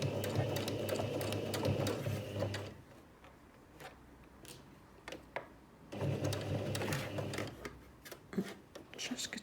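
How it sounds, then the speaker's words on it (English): A sewing machine stitches a zipped make-up pouch, starting with reverse stitches to anchor the threads: two steady bursts of motor whir, separated by a pause of light clicks and handling noises. "a couple of reverse stitches first, just to anchor my threads"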